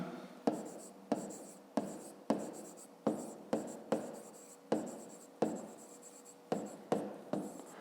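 Chalk or pen writing out a math exercise produces a rapid series of sharp scratchy strokes, each a crisp tap followed by a brief scrape, close and alone in quiet.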